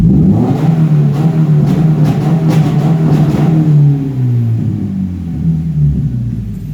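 Car engine with a Bee R rev limiter fitted, clutch depressed, held at high revs with a rapid stuttering limiter pulse, then the pitch drops as revs fall and rise again, loud and close.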